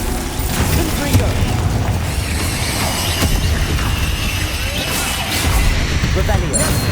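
A loud fire-spell blast in Hogwarts Legacy, a booming crash with whooshing bursts that sustains a dense, rumbling roar for several seconds while a voice talks over it.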